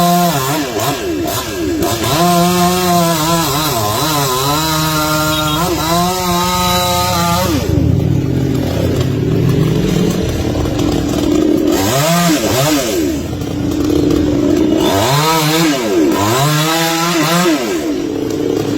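A chainsaw roars close by, revving up and down in repeated bursts as it cuts a long section from a tree, loud and sustained throughout.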